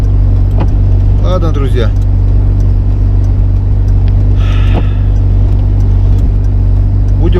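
Car driving slowly on a rough road with a broken ball joint: steady loud low engine and road drone throughout, with occasional creaks and knocks, and someone speaking briefly over it.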